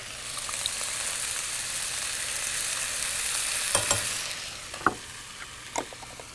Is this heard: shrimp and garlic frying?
yes